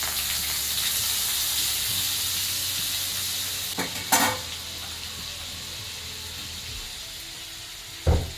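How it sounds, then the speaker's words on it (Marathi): Oil and butter sizzling steadily in a pan for a mushroom ghee roast, a constant soft hiss with a couple of brief clatters of stirring or utensil taps. "थोडंसं तेल टाकते आणि थोडंसे बटरही टाकले मी त्यात"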